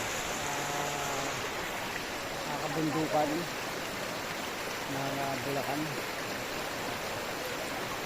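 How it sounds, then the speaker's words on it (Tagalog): A river in the mountains of Bulacan makes a steady, even rushing wash throughout, with a person talking over it in short bursts. "Ang ilog dito."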